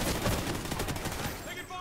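Gunfire in the Call of Duty: Ghosts campaign, a loud close burst of rapid automatic shots filling under two seconds, with a shouted voice over the shooting.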